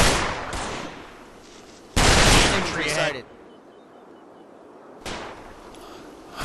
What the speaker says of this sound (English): My mortar team shooting on that building there.